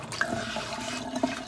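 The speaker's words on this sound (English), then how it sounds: "Splash it over." Water from a filled pan is splashed over it during cleanup after breakfast, a short, close burst of sloshing and running water with no talk.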